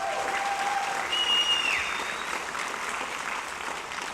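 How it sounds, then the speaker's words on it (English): Audience applause at a fifth-grade graduation, a steady wash of clapping from a crowd in a hall, peaking early and then continuing evenly, with a brief whistle or cheer rising above it. "Let's give them another round of applause"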